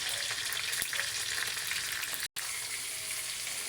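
Garlic, onion, chili and tomato sauté in a pan with a loud continuous close sizzle and faint stirring scrapes, broken briefly by a short cut to silence.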